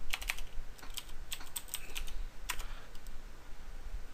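Typing a command on a computer keyboard while configuring a Cisco switch: a quick run of crisp key taps, irregular in rhythm, close and clear with no talking.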